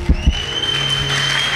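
A congregation claps together at a Rwandan church service, the sound rising from a few sharp slaps into steady, continuous applause that fills the room at moderate loudness.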